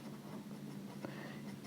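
Pen scratching steadily on paper while a maths solution on relations and functions is written out, close and fairly quiet, with one brief tap partway through and no talk.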